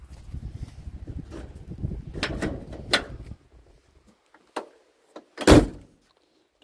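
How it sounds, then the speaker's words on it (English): Volkswagen Beetle car doors being opened and shut: rattling and clunking handling, then a few separate latch clicks and one loud solid slam near the end, close by with no talking. "Doors open and shut good."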